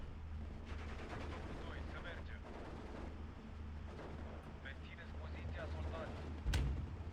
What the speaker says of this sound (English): this 50mm mortar is actually doing a number on me